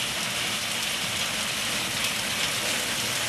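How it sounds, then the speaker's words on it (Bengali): Heavy rain pours down steadily as a dense, unbroken hiss, close and loud, lasting the whole stretch without any voices. "তোমরা দেখো ব্যাক ক্যামেরা দেখো যে বৃষ্টিটা কী পরিমাণে হচ্ছে"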